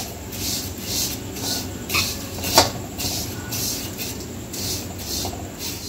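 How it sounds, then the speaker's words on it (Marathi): Vermicelli roasting in a little oil in a pan gives a steady, soft sizzle, with repeated light scraping from stirring and one brief sharp clink midway. "आता याच तेलामध्ये आपण शेवया भाजून घ्यायचे आहे"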